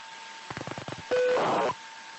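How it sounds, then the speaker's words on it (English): A telephone being dialed, picked up over satellite radio: a quick run of about eight short tone pulses, then a longer steady tone with faint warbling, heard through a steady hiss. "You hear the person dialing."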